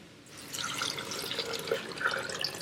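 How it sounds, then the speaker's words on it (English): Water poured into a pressure cooker pot over soup ingredients, a soft continuous splashing trickle that is fairly faint and steady after a quiet start. "Now we're going to drop in our water."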